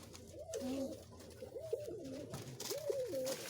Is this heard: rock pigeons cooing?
yes